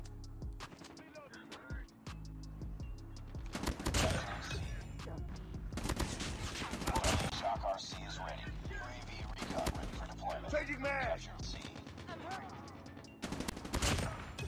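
Gunfire in Call of Duty Mobile, with bursts of rapid automatic shots and scattered single cracks at varying distances, loud and dense at times, with a voice talking intermittently over the firing.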